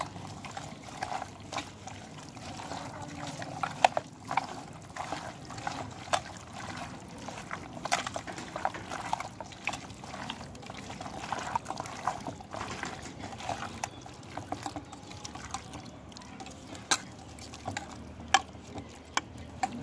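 Ingredients being mixed with mustard oil make faint, soft wet squelches and light clicks scattered unevenly throughout, with no talking.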